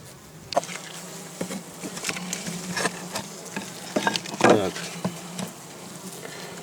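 Honeybees buzzing steadily around the listener, a busy swarm hum with occasional louder passes close by, no talking.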